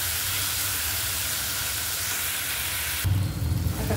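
Onion and tomato frying in a pan: a steady, dense sizzling hiss that runs throughout, close up, shifting to a lower, bubblier crackle near the end.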